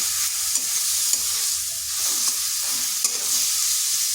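Pointed gourd (potol) frying in oil in a pan, a loud, steady close sizzle broken by a few faint spatula clicks, with no voices.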